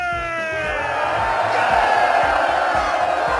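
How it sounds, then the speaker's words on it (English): A crowd of film extras on a medieval jousting set cheers and whoops together, a loud sustained roar rising after a fading tone at the start. "the crowd stays silent until Roland encourages them to cheer"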